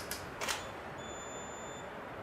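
A camera shutter fires with flash during water-drop splash photography, giving two faint, quick mechanical clicks close together, followed by a thin, steady high whine from the flash recharging, with no talking.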